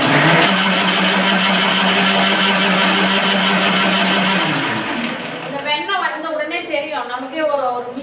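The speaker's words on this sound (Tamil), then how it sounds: "மிக்சி ஒரு மாதிரி தடு தடு தடு தடுக்கு சத்தம் கேட்கும் அப்போ அது வெண்ணெய் ரெடி ஆயிடுச்சு" A mixie blender churns cream into butter with a loud, steady motor drone for about five seconds, then cuts off as a voice starts talking.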